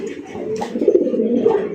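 A Raj Golla pigeon, a yellow-eyed male, gives a close, loud, throaty coo in a short rolling burst, alone.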